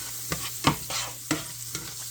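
One onion lands in a little oil in a pan, a quiet soft sizzle under a few sharp clinks and scrapes of a utensil moving the pieces about.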